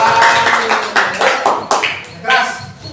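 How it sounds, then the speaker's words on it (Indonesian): Students in a classroom clap for a classmate, a scattered round of claps lasting a few seconds with uneven loud hits. Voices talk under and around the claps. "Beri tepuk tangan Mas Andri."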